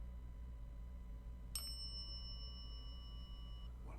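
A single bright bell chime rings out once, its clear metallic tone sustaining and slowly fading over a low steady background hum, quiet and fairly distant with no talk.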